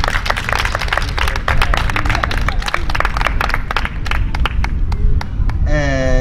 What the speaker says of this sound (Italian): un applauso per favore, un piccolo applauso